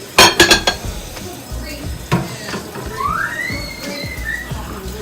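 Vegetables being rinsed and a bowl being handled: a quick run of loud clanks and knocks at the start, a single clunk after, then softer handling noise under a rising whistle-like tone.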